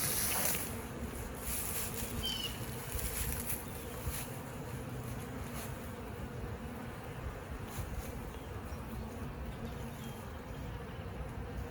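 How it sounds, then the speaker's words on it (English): Honey bees buzz in a dense, steady drone around an open hive during an inspection, continuous and close for the whole stretch, with a few faint clicks of handling. "Look at all the bees."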